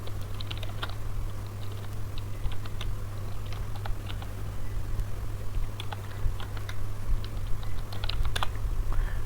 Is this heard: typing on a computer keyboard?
yes